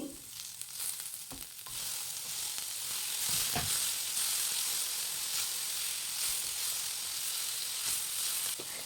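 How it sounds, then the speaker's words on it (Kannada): Garlic, ginger, onion and tomato fry in oil in a kadai, giving a steady close sizzle that swells midway, with a few stirring scrapes and knocks and no talking. "ಮತ್ತೆ ಅದೇ ಕಡಾಯಿಗೆ ಸ್ವಲ್ಪ ಎಣ್ಣೆಯನ್ನು ಸೇರಿಸಿ ಆವಾಗಲೇ ಕಟ್ ಮಾಡಿಕೊಂಡಿರುವಂತಹ ಬೆಳ್ಳುಳ್ಳಿ ಶುಂಠಿ ಈರುಳ್ಳಿ ಜೊತೆಗೆ ಟೊಮೆಟೊ ಕೂಡ ಹಾಕಿ ಚೆನ್ನಾಗಿ ಫ್ರೈ ಮಾಡ್ಕೊಳ್ತೀನಿ"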